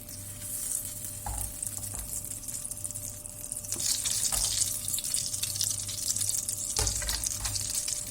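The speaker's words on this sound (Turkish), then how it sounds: "bir yemek kaşığına yakında tereyağı kızartıyorum" Butter and oil sizzle steadily in a pan with a constant hiss, occasional utensil scrapes and stirring noises, close up and without any talking.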